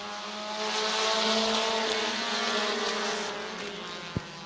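Race cars roaring around Midvale Speedway as the green flag drops, a dense, loud engine drone sustained throughout with a sharp knock near the end.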